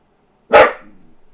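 A single sharp dog bark, close and loud, then a brief fading echo in a quiet space.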